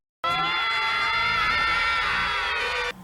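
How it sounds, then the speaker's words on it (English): Skeletons in a G.I. Joe cartoon let out a sustained, loud, shrill chorus of screams that holds for nearly three seconds, then stops abruptly. "Their work is interrupted by screaming skeletons."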